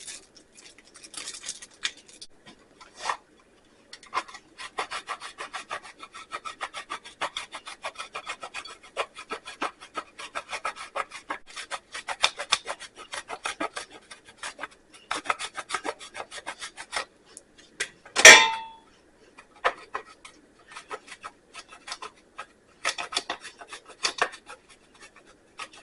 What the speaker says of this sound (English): I want to grate some cheese on it.